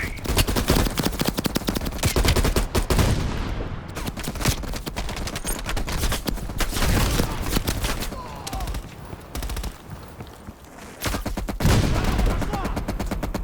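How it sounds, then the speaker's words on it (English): Machine gun fire in a Call of Duty: Black Ops Cold War battle, dense rapid bursts of automatic gunfire with scattered heavier blasts, loud and sustained across the scene, mixed with faint voices. "Val, take out that MG."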